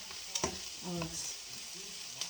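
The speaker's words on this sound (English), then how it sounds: "So I'm just sauteing" Onion with green, red and yellow peppers sauté in a pan for Cuban ham croquettes, giving a soft steady sizzle with a few clinks of a utensil and a faint murmur of voice underneath, close but fairly quiet.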